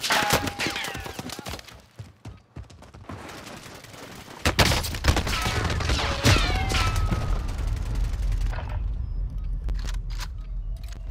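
An MG82 machine gun fires in a video game, with sharp rapid bursts and mechanical clatter early on, then a lower, steadier rumble of game noise and scattered shots.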